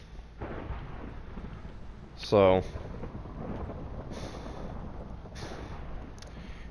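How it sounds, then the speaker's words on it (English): A thunderstorm in Minecraft on PlayStation 4 gives a steady hiss of rain with a short, sharp thunder crack partway through. A few faint low rumbles sit in the background, and a brief spoken word is heard. "what is up with my world being so stormy today?"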